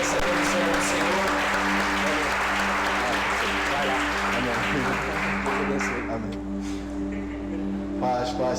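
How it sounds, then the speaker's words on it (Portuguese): A church congregation claps together in steady, sustained applause that fills the room, with held musical tones and a few voices underneath, easing slightly near the end. "Dá uma salva de palmas mais uma vez"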